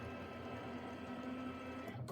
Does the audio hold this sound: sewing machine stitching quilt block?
yes